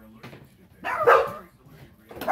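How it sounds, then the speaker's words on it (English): Dogs greeting someone coming in the door give short, excited barks and yips at close range, in two loud bursts separated by quieter shuffling, with a voice partly mixed in. "my husband just walked in the door, so the dogs are greeting him"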